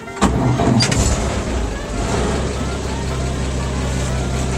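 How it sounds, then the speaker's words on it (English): A 1951 Chevrolet pickup truck engine starting with its starter, a sharp crank burst followed by the motor catching into a steady, close, rumbling idle that continues to the end. "We're going to start the truck, show you how the Kickstarter and all works."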